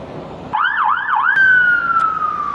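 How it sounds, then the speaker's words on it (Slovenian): An ambulance siren starts suddenly with a loud, nearby wailing yelp, then switches to a long steady tone that slowly drops in pitch as it passes, over faint traffic. "Rešilca ni nikoli dobro videti, da pa slišati, ne?"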